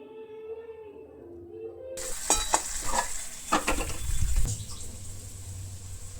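After a short stretch of voice, meat and potatoes hit hot oil with whole spices, bursting into a loud sizzle with scraping and clattering stirring that settles into steady frying.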